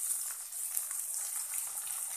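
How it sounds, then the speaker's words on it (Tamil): Water sprinkled lightly into hot oil with frying chili powder, giving a steady close hiss and crackle for about two seconds with no talk. "கொஞ்சம் லேசாக தண்ணி தெளிக்கலாம்"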